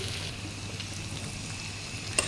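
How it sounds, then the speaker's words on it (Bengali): Soft, continuous sizzle of bitter gourd frying in hot oil with already-fried masoor lentils, steady and low throughout. "আমার ডালগুলা তেলের মধ্যে ভাজা হয়ে গেছে, এখন আমি করলাগুলো দিয়ে দিলাম"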